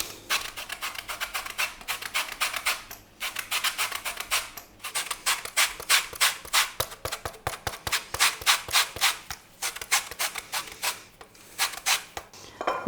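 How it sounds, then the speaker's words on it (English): Orange zest is grated for a chocolate and orange loaf, a close, steady run of quick scraping strokes against the grater, loud and rhythmic with brief pauses, with no talking. "now we're going to grate in the orange zest."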